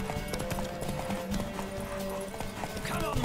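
A horse gallops in a race in The Witcher 3, hooves drumming in a quick steady rhythm amid game background noise, close and continuous.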